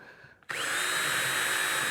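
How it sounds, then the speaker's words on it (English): A power drill bites into 5/8 inch plywood to pre-drill for steel pegboard mounting, starting abruptly after a quiet moment and whining steadily and loudly at close range. "I've decided to go ahead and just pre-drill a little bit."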